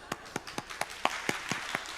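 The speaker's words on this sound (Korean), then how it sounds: "박수" A church congregation at an autumn dawn revival service claps in a steady, evenly spaced rhythm, about nine sharp unison claps in two seconds, close and clear with no voices.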